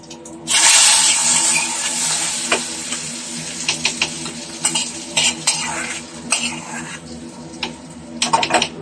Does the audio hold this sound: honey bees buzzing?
no